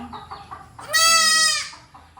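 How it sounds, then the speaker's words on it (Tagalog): A newborn Anglo-Nubian goat gives one loud, drawn-out bleat close by, lasting about a second, with softer farm sounds and faint clucking before and after. "Ito po, bagong panganak nating kambing, oh."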